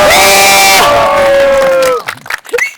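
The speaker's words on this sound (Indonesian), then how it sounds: "tepuk tangan buat Abi Andeka." An audience at a talk cheers and shouts loudly with sustained voiced whoops, then breaks into scattered, uneven outbursts of noise near the end.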